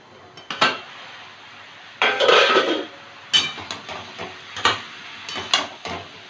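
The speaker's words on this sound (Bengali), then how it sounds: "পাঁচ মিনিট পরে ঢাকনাটা তুলে নিচ্ছি" A metal lid is lifted off a cooking pot of snake gourd with egg, giving a few sharp clinks and clanks, with one longer, louder rattling clatter in the middle; close by and with no talk.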